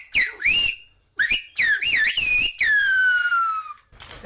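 Whistled Silbo Gomero, the whistled form of Spanish, rendering a radio show name as a series of bright, gliding pitched whistles in several bursts with short pauses, close and loud, with no talking.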